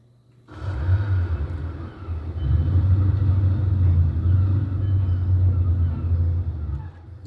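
Car engine in a racing video game running on a retro Pentium 4 PC, a low rumbling drone that starts abruptly and holds steady with slight swells, moderately loud with no talking.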